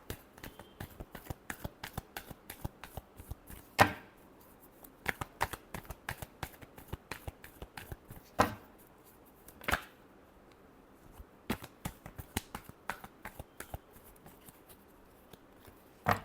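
Tarot cards are shuffled close by in a steady run of soft, crisp riffling flicks, broken by a few sharper slaps as the deck is squared, with no voices.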